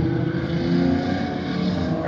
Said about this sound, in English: This Chevelle was doing some really good times and had great sound.